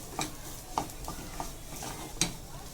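Chopped coriander being mixed into dosa batter: soft, quiet stirring with a few sharp clicks of a utensil against the bowl, spaced unevenly over a low, steady background.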